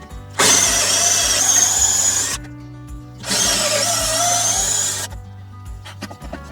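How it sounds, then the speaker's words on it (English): A power drill with a chunky bit whines loudly in two sustained bursts, each about two seconds long, separated by a short pause, boring a bolt hole while a padbolt is fitted to a gate. "So we'll just get a nice chunky drill that would clear the coach bolt when it goes through."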